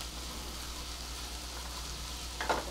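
Chopped onion frying in a pan for Karnataka-style girmit bhel, a soft, steady sizzle with faint crackle throughout and a brief louder stir or scrape near the end, no talking.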